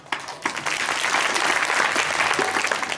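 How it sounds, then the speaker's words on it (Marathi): A large audience at a devotional kirtan performance bursts into loud, sustained applause that starts abruptly and keeps up as dense continuous clapping. "टाळ्या."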